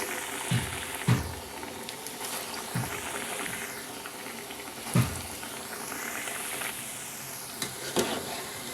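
Moong dal vadas (pesara garelu) frying in hot oil give a steady, bright sizzle and bubbling, with a few soft knocks from handling the pan or utensil.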